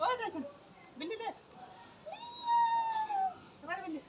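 A cat meows several times, with drawn-out, rising and falling calls spaced a second or so apart, heard close and fairly clear.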